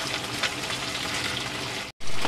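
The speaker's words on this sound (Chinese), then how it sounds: "咁我哋首先就煎咗嚿鱼先啦，吓，煎一煎佢" A piece of fish skin-side down in a red-hot wok sizzles and spits steadily, a close, even hiss that cuts out briefly near the end and then comes back.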